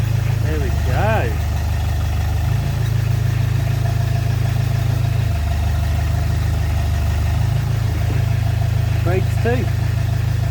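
A Ford Mondeo MK2 estate idles in first gear with a steady low engine drone, loud and close, while a few faint squeaks rise above it now and then.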